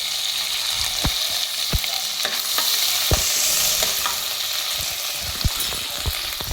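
Crushed green chili and ginger sizzle steadily in hot butter and oil in a pan for pav bhaji, with repeated sharp clicks and scrapes of a spatula stirring throughout.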